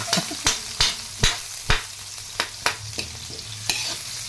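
Food sautés in smoking-hot oil in a pan, a soft continuous sizzle broken by sharp spatula scrapes and knocks against the pan roughly every half second, close and fairly loud, with no talking.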